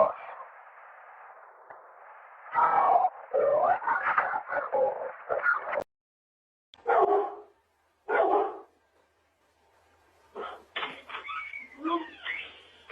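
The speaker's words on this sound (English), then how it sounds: "See, the dog seen something." A dog barks in short repeated bursts, several loud barks spaced over a few seconds, heard through a phone-recorded clip with some background hiss and brief gaps of silence.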